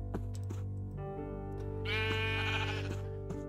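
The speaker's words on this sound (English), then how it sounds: "if you right-click on your sheep, you can shear sheep" Sheep bleating in Minecraft, a wavering, nasal bleat held over a steady game tone, with faint clicks scattered through, close and unaccompanied by talk.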